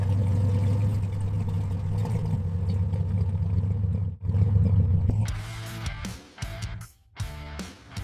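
A V8 engine fitted in a Volkswagen Beetle pickup idles with a deep, steady rumble, then blips and revs in several sharp, loud bursts.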